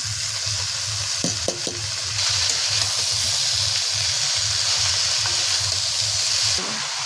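Greens and tomato with ginger-garlic paste are stirred in a hot pan for a mixed-vegetable chachchari with crab, producing a constant oily sizzle under repeated scraping strokes and a few sharp knocks near the start.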